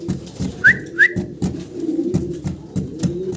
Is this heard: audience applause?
no